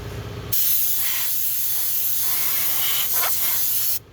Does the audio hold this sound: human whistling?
no